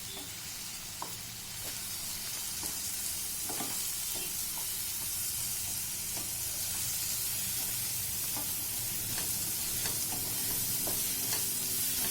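Bottle gourd curry stirred in a pan after salt is added, with a steady close sizzle and soft intermittent scraping and stirring clicks throughout, no talking.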